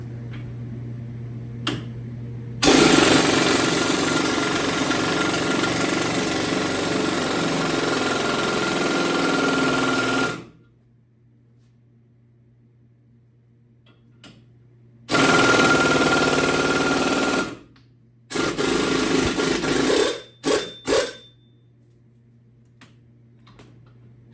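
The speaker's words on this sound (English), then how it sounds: "And we're going to hammer it in there." Rapid metallic hammering in long sustained bursts, then a pause, then shorter bursts and a few separate blows, loud and close in a quiet workshop, driving a ball joint into an S10 pickup's front end.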